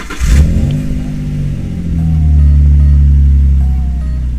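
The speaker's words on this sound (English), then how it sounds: "and then go ahead and start the engine and let it idle." A Nissan 350Z with a straight-pipe exhaust cranks briefly, fires up and settles into a loud, steady, deep rumbling idle that swells slightly midway and carries no talk.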